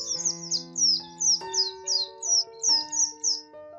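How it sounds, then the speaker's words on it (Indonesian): Morning birdsong: a series of bright, quick chirps repeating in bursts, over sustained soft background tones, with no voices. "Suara-suara burung bersaut-sautan menyambut pagi yang cerah."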